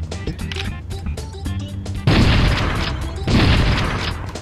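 Two loud, booming shotgun blasts from a modded Super Mario 64 game ring out about a second apart, each followed by a sustained noisy tail. Quieter game sounds come before them.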